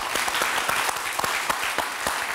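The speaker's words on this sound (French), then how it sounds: "L'habitude des applaudissements" A studio audience gives dense, sustained applause to welcome a guest on stage, the comedian Dominique Palandry. Many hands clap steadily and loudly with no pause.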